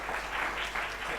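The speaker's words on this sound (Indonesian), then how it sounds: "Tepuk tangan" A brief burst of audience applause at a madrasa student showcase event, continuous dense clapping with faint voices underneath.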